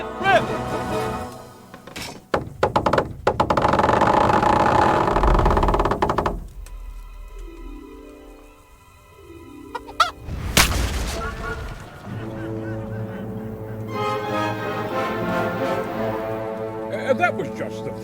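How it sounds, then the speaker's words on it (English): A trebuchet in Kingdom Come Deliverance launches its first shot at castle walls, a heavy booming thud and crash rising from a noisy battlefield, followed by quieter stretches and further dull impacts. "That was just the first shot. The trebuchet has to be calibrated."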